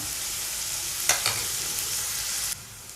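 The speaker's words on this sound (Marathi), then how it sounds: "आता मी कढईमध्ये तेल तापत ठेवलेलं त्यामध्ये कढीपत्ता आणि कांदा" Curry leaves and onion frying in hot oil in a kadai give a steady close sizzle, with a couple of brief clinks or stirs partway through. The frying dips a little quieter near the end.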